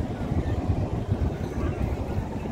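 A hired river boat heading toward a white-stone spot, its low rumbling engine and water churning steady and close, with wind buffeting the microphone throughout.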